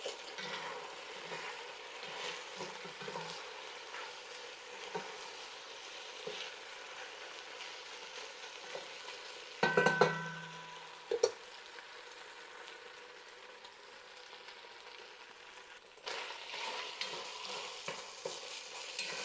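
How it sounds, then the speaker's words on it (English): Onion fries in a pan for a pork stir fry, a faint, even sizzle heard close up, broken by a short utensil clunk partway through before the quiet frying resumes. "We're going to add our onion and cook that for a few minutes."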